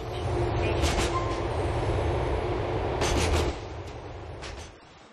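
A Liberty City train in GTA IV rolls along at a steady clatter with a low rumble, a few brief squeals rising on top, then fades toward the end of the stretch.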